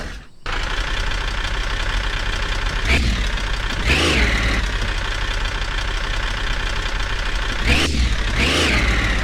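A car engine idling in the video game Car For Sale Simulator, a steady mechanical drone with a low knock, rising into two short revs partway through before settling back to idle.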